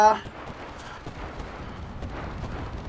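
Gunfire in the World War II shooter Enlisted, a burst of booming shots and crackling volleys at the start, then rolling distant explosions and scattered fire under a player's voice.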